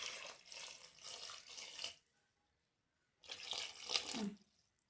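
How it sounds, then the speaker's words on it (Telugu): Water pours into a large cooking pot in two steady runs, a couple of seconds each, separated by a short silence, close and fairly loud with no talk. "ఇప్పుడు తగిన నీళ్ళు అయితే వేసేస్తా."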